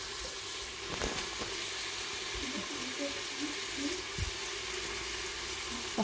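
Onions and lardons frying in a pan, a steady soft sizzle and crackle running throughout with a few faint clinks, close by and moderately loud.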